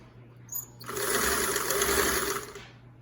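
A Singer 328k sewing machine starts up after a brief click and runs at a steady whirring hum for about two seconds before winding down, close and clear with no talking.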